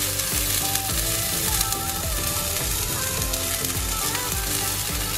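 Broccoli stir-frying in a spoonful of hot oil in a pan sizzles loudly and steadily, with repeated rhythmic scrapes and clatters as the pieces are stirred and tossed throughout.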